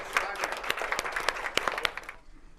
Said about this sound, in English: Let's give a round of applause for our paper engineers.